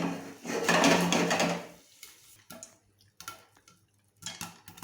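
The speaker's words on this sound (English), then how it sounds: "You can hear the popping sound." Popcorn pops inside a pressure cooker shaken to and fro on the stove, a burst of rattling and scraping followed by scattered sharp little pops and taps, close and fairly faint, with no talking.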